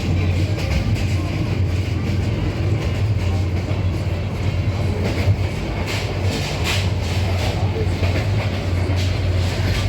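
The Teesta Express passenger train running steadily, a continuous rumble of wheels and carriage noise with faint rhythmic clatter throughout.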